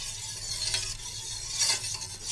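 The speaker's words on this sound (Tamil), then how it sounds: "விட்டுட்டு சிம்மில் வச்சே நம்ம இதை கிளறணும்." A coconut milk drink simmering on low heat in a pot is stirred with a spoon, giving a close, continuous scraping swish over a soft bubbling hiss, with no voices.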